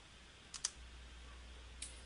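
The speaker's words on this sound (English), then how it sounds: "I will hit the spacebar on my keyboard to play the video along with the audio" A computer keyboard spacebar pressed, giving two or three quick soft clicks close by in a quiet room, with no voices.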